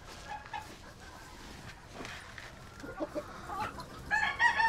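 Several chickens cluck and squawk nearby, with scattered soft calls growing busier toward the end; no talking.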